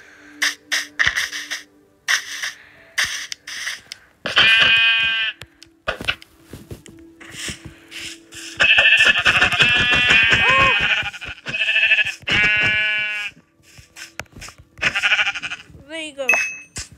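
Several loud bleats from sheep in the video game Minecraft come in short repeated bursts, with a person talking between them and game clicks in the background.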